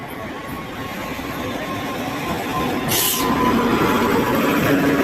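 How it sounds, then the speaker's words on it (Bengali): A train pulls into a station, its broad rumbling roar building steadily louder, with a brief sharp hiss or squeal partway through. "ওই তো ট্রেন ঢুকছে।"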